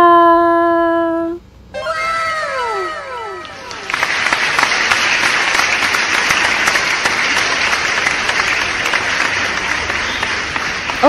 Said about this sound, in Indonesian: Oke, cukup tepuk tangannya